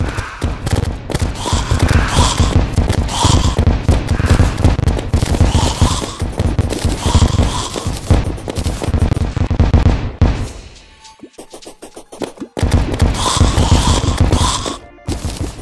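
Stynger weapon fire in Terraria: rapid, repeated explosive bursts and thumps in dense volleys for about ten seconds, a brief lull, then another loud volley, with no talking.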